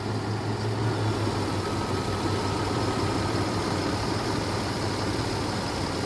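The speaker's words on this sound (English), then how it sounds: "She runs really nice and clean." A 2002 Toyota 4Runner Sport Edition with the 3.4 engine and 201k miles idles steadily in the open engine bay, a continuous low rumble with a faint tick, close and unbroken.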